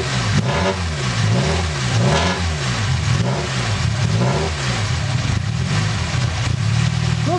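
A VAZ-2101 car engine with a new head gasket, still cold, runs loud and close. It revs up and down in repeated rising and falling waves over a steady rough drone.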